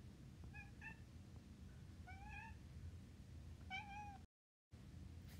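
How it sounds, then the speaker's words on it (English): A cat meows three times, short plaintive cries spaced a second or so apart, heard faintly in a quiet room. "You can hear my cat in the background,"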